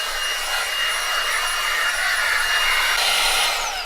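A cordless mini handheld vacuum cleaning a car seat, a loud steady whine with a constant airy hiss, close and unbroken, no voices.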